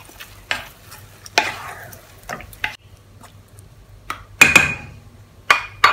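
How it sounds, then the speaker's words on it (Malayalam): Ground masala for a green chicken curry is stirred into a hot pan, producing bursts of scraping and sizzling spread across the clip with quiet gaps between them, close by and with no talking. "ഇനി ഇതിലേക്ക് നേരത്തെ അടിച്ചു വെച്ച മസാല ഒഴിച്ചു കൊടുക്കാം. നന്നായിട്ടൊന്ന് മിക്സ് ചെയ്ത് കൊടുക്കാം."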